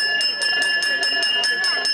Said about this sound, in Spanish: ¡Ay, campana de gala!